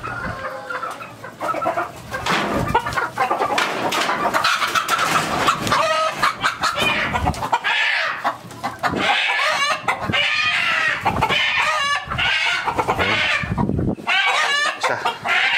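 Native chickens cluck, squawk and cackle close by in agitated bursts as they are chased and caught, with a rooster crowing and occasional rustling in the mix.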